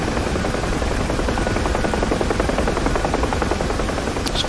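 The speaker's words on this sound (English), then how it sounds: "when you fly in a helicopter in these maps" Loud, close, continuous thumping rotor chop and engine whine of a UH-1H Huey helicopter in flight over Dubai in the DCS flight simulator, steady and unbroken throughout with no voices.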